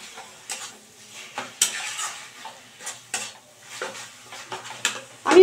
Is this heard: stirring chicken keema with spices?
yes